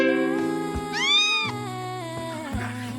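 Kittens meow near and loud, with one rising and falling cry standing out over a sustained musical tone and a few soft thumps.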